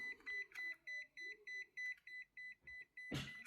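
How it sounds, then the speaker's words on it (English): A broken multimeter beeps in a regular rhythm, about ten short high electronic tones evenly spaced, faint and close, followed by a brief burst of handling noise at the end. "I'm not sure if you can hear that, but it's just beeping, and no matter what setting you go on"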